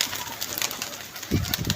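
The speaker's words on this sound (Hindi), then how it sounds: "अभी ये वही कबूतर उतर रहे हैं" Pigeons coo softly as they land, a few low murmuring calls near the end over a steady airy background, faint and fairly close.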